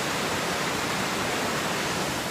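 A waterfall rushes in winter, its steady broadband roar filling the scene continuously and loudly with no voices.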